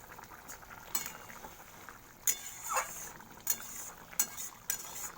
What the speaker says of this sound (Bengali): দেখো ফুটছে।